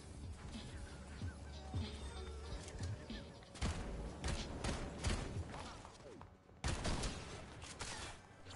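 Shotgun fire aimed at a boss during a shotgun-only video game challenge: a busy game mix of repeated heavy blasts and crashing impacts over constant background noise, loud and close.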